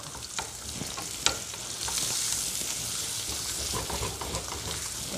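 Onion and garlic fry in a pan with a dense sizzle while a utensil stirs and scrapes, producing sharp clicks and a spitting crackle that swells midway.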